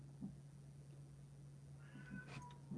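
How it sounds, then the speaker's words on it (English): A pet cat meows indoors, a couple of faint, short cries heard over a steady low electrical hum, quiet and somewhat distant. "Oh, there goes my cat."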